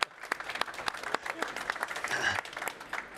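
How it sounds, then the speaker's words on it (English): Audience applause at a panel event on circular economy and climate-neutral plastics, a moderately loud burst of many hands clapping that fills the room for a few seconds, with a voice briefly audible over it. "this is your applause."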